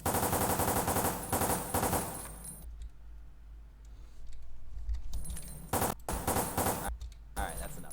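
Rapid bursts of automatic pistol fire from the video game Dead Aim come in dense, loud volleys separated by quieter gaps, with short clicking clatter between them and a voice faintly underneath.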